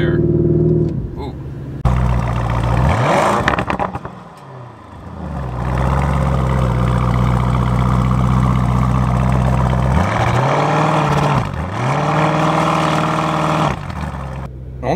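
Lamborghini Urus with a 4.0-litre twin-turbo V8 making 650 horsepower, revving on launch control at a test track, held near 2,500 rpm; a loud, steady close engine drone with two brief dips and re-revs, voices over it.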